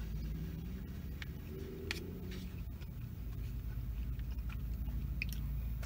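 Someone chews a mouthful of Chinese fried rice up close, soft wet squishing and faint crunchy bites over a low steady background hum.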